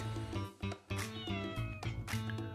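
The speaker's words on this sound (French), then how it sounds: "Sinon, tu auras le droit à un quartet de miaou" Several cats meow in close, overlapping cries that come in a steady run of loud, tonal calls. A few of them rise into drawn-out caterwauling wails.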